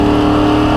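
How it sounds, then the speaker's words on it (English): A NASCAR stock car engine holds a loud, steady high-rev roar during a hot lap at Michigan International Speedway, a brief close-up burst with no voices. "putting in a lot of throttle to keep revs up in the corners"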